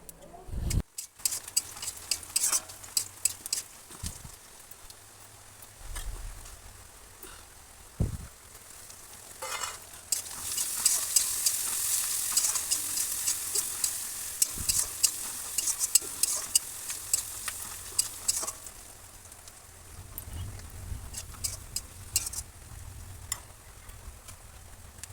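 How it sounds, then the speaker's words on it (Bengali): Spices with five-spice seeds frying in a pan for a village-style taro-leaf chorchori, a soft ongoing sizzle under repeated spatula scrapes and knocks against the pan, with a louder hiss swelling in the middle. "তো মশলাটা ভালো করে আমি কষিয়ে নিয়েছি"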